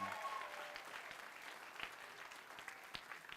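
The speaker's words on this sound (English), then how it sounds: "Let's give a round of applause for our color guard." A concert audience at a Christmas concert applauds the color guard with steady, fairly distant crowd clapping that continues throughout.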